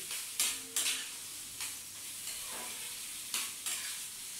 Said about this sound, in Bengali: এবার ভালো করে মশলাগুলো মিশিয়ে দিচ্ছি।